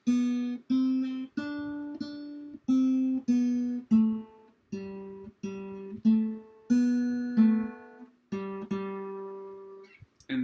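Plucked acoustic guitar notes play the melody of Ode to Joy, one clear note at a time in a steady rhythm, close and alone.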